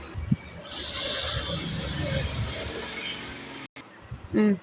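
Sewing machine stitching through fabric, a close, steady mechanical whirring rattle that runs for a few seconds, breaks off briefly, then gives way to a short louder burst.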